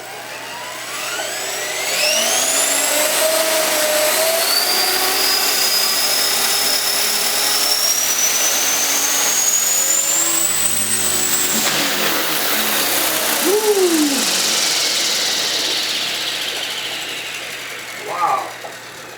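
A Hobbyking HK450 RC helicopter, a T-Rex 450 clone, spools up indoors: a loud, steady motor whine climbs in pitch and holds for about ten seconds, then winds down as the throttle is cut, with a brief voice near the end.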